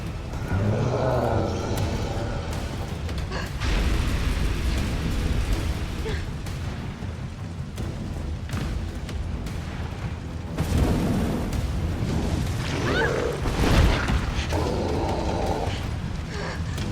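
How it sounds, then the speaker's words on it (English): Gunfire in a Resident Evil video game as zombies are shot, booming blasts and bursts scattered over a continuous dense game soundscape, with a voice talking at times. "I am just going to shoot them now."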